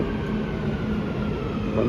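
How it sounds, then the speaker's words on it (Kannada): A Dubai Metro train pulls into Al Ras station with a steady, low rumble that fills the short stretch of sound. No voices are heard. "ನೋಡಿ ನಮ್ಮ ಟ್ರೈನ್ ಬಂದ"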